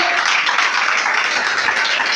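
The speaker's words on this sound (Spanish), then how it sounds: "Fuerte el aplauso al Señor" Sustained, loud applause fills a church hall, a dense wash of many hands clapping at once with no clear gaps, and no voices standing out.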